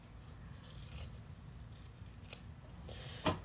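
Scissors trimming the bottom of a sewn pocket, a few soft close snips and rustles of fabric, ending in one sharper click.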